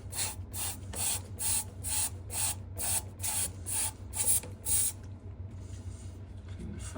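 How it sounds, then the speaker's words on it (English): Anti-bacterial spray squirted onto a sink pipe thread during a blocked sink fix, about ten quick hissing bursts in a brisk regular rhythm, close up over a low steady hum, then stopping. "some anti-back spray."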